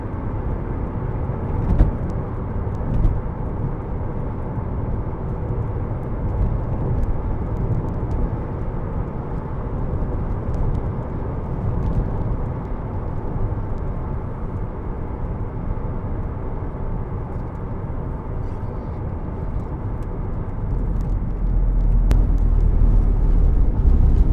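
A steady, loud road rumble and tyre roar fills the cabin of a 2003 Alfa Romeo GTV 2.0 Twin Spark 16v on the move, a dense, constant drone that swells slightly toward the end.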